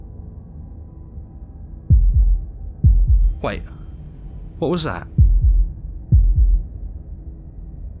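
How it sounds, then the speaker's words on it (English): A heartbeat effect from the video game Slay the Princess thumps as paired low beats repeating at a steady rhythm, loud and close, while a voice speaks briefly between the beats. "That was the sound of a heartbeat"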